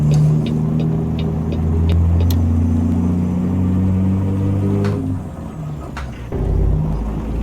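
Deep rumbling engine braking from a Caterpillar C15 6NZ truck engine in American Truck Simulator, a loud, close, low throbbing growl that swells and fades over several seconds, with a brief dip near the end before returning.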